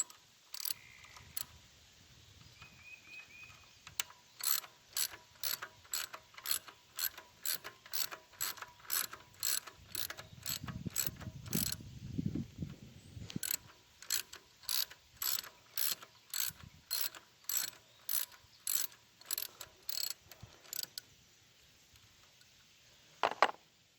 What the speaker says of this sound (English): It's got two 8mm screws, bolts here. Loosen those, take them out of the way.